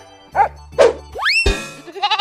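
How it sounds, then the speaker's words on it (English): A goat bleats in a playful animated animal-sound sequence, brief bleating calls mixed with a springy sweeping effect, loud and close with no talking over it. "Goat."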